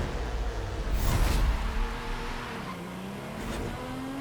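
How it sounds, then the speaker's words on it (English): A Ferrari in Forza Horizon 5 races along with its engine droning at moderate level, a brief swell of road and tire noise around the second mark, then steady rising engine tones. "I have been graced with a Ferrari."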